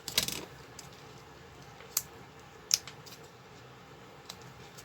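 Scissors or a blade cut into the cheap plastic battery cover of a Roberts RT1 radio, giving a crackling burst at the start and then a few sharp, isolated snips and clicks over a faint background hiss.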